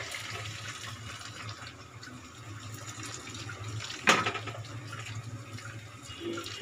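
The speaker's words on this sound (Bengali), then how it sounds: "এবারে গরম জল দিচ্ছি।" Hot water poured into a chickpea and pea curry gives a steady liquid pouring and splashing hiss throughout, with a brief louder splash midway and no talking.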